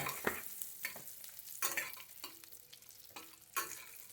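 Mustard seeds, cumin and asafoetida sizzle in hot oil, a steady crackling fry punctuated by several sharp pops and spoon scrapes against the pan, close and fairly quiet.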